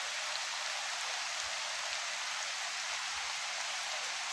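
Steady heavy morning rain pours down, a dense, even hiss of drops on a surface with no pauses and no voices.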